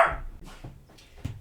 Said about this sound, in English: Tucker's barking at the Amazon guy